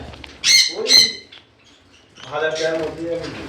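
Conure parrots at a bird farm in Howrah let out two sharp, shrill calls close by, followed by a stretch of people talking over a quieter background.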